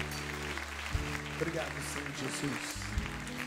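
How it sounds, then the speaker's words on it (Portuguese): A congregation at a night worship service applauds steadily under music with sustained low organ-like tones, while a voice speaks over the clapping. "aplaudamos mais uma vez o nosso Senhor com toda a nossa força"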